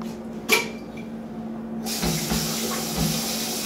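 Kitchen tap running as water is drawn, a steady broadband hiss that starts partway through after a brief knock and clatter, close and moderately loud.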